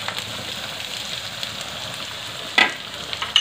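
Chopped onion and capsicum fry in a pan for Indian-style white sauce pasta, giving a steady close sizzle with a brief louder crackle near the end.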